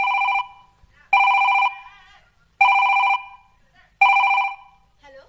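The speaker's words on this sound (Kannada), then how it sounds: "ಫೋನ್ ಬಂದೈತಿ ನೋಡ್ಬಾ" A telephone rings four times in a steady repeating pattern, each loud electronic ring separated by a short pause, close by and with no talk over it.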